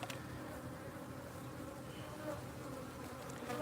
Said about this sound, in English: These are killer bees.